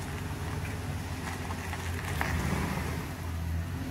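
A truck engine runs and rumbles during a test run, a steady, fairly loud drone close by with slight swells in revs and no talking.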